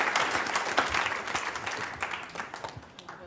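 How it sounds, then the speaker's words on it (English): Audience applause at a school board meeting, a steady patter of many hands clapping in a meeting room that slowly thins and fades over a few seconds. "And we'll give them all a round of applause."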